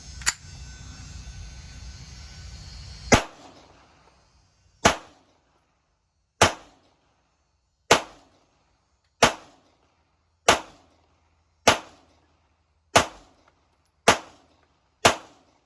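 Lorcin L9MM pistol fired at a shooting range: after a few seconds of low rumbling noise, nine sharp, loud gunshots ring out one at a time at slightly uneven intervals of about a second and a half, each decaying quickly.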